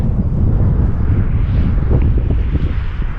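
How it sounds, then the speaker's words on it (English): Strong wind roars steadily across the microphone on a windy day at an RC Sbach stunt plane flight, a loud continuous rumble with no break. "Fighting the wind."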